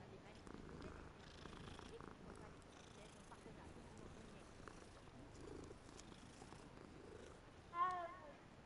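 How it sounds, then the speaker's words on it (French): Cat purring in the video game Hogwarts Legacy, a soft continuous low rumble sitting under someone speaking, with a brief louder chirp near the end. "Encore un chat."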